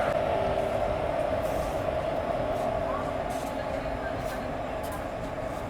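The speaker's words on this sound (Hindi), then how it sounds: "10:20 पर हमारी ट्रेन निकल चुकी है पुरानी दिल्ली रेलवे स्टेशन से।" Ranikhet Express pulling out of Old Delhi railway station, a steady loud rumble of the moving train with a sustained hum and faint intermittent rattles, continuous throughout.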